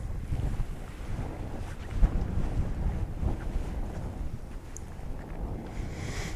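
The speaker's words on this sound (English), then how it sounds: "Now the wind is picking up." Wind gusts outdoors during a night lunar eclipse viewing, a steady low rumble of buffeting against the microphone that swells and eases without a break, with no one talking.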